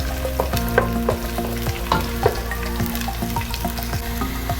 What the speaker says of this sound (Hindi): उसको हल्का सा फ्राई करेंगे।